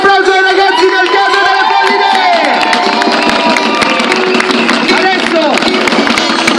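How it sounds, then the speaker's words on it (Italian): An audience applauds and cheers loudly for young theatre performers, a dense, continuous wash of clapping with shouts and whoops from children, voices mixed throughout. "Un grande applauso ai ragazzi del Teatro!"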